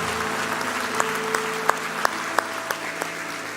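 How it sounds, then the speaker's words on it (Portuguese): Church congregation applauding during an evening worship service: steady, dense clapping with a few sharper claps popping out, over a faint low sustained tone. "Dê o melhor aplauso que você pode dar ao Senhor"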